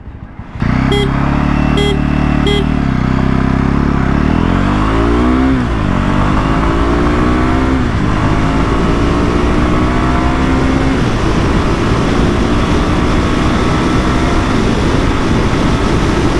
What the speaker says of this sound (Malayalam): അപ്പോൾ നമുക്ക് 0 to 100 ചെക്ക് ചെയ്യാം.